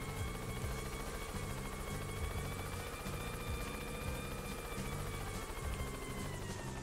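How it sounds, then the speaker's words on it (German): A helicopter in the video game Yooka-Laylee gives a continuous rotor buzz with a rapid rhythmic chop, steady and fairly loud throughout, with no talk over it. "das mit dem Helikopter macht auf jeden Fall Spaß"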